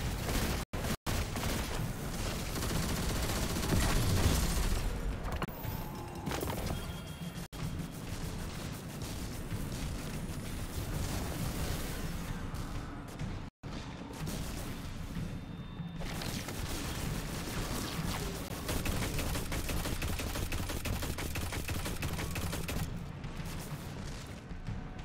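Gunfire from the video game Destiny 2 rattles in dense bursts with booming impacts and explosions, a continuous busy battle soundscape at moderate level.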